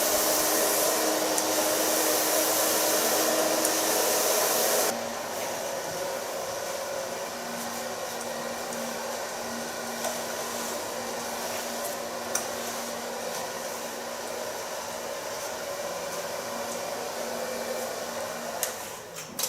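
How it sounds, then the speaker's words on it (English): A hair dryer blows steadily while hair is blow-dried and shaped with a medium round brush during a punk makeover, a continuous airy roar that drops slightly in pitch and loudness partway through, then holds steady. "Blow drying with a medium light brush."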